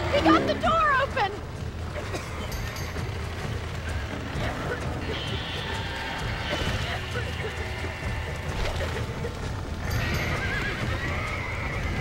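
Horses in the Red Dead Redemption video game whinny loudly near the start, then hooves clip-clop steadily throughout while someone talks over them.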